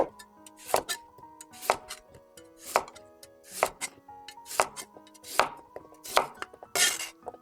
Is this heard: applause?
no